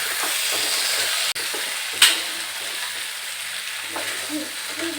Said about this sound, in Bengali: এখন চিকেনটাও একদম ভাজা ভাজা হয়ে গেছে, পোড়া পোড়া ভাজা ভাজা হয়ে গেছে একদম